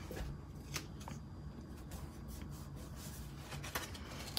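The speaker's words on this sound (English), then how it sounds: "I'm going to add my Stampin' Seal Plus and then fold this over." Paper being folded over into a holiday box, with soft rubbing and crisp creasing taps scattered across a quiet background, close and faint.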